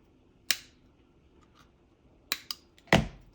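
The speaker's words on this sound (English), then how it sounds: "if you want to cut a little bit more, you can just cut it along the side" Snips of wire cutters biting through a plastic Jenga block, three or four sharp, close clicks spaced irregularly in a quiet room, the last a bit louder and doubled.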